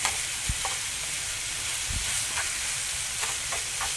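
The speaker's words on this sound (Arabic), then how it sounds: "نقليه كي يتقلى اللحم" Minced meat with ginger and diced tomatoes sizzles steadily in a hot pan, a close, even frying hiss with a few soft stirring knocks and no talk.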